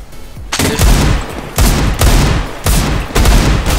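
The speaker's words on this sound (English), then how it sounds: "Take this gun and shoot it. Shoot up in the air." Rapid bursts of gunfire from a pistol fired into the air in CS-GO, four loud, close volleys in quick succession with no talk.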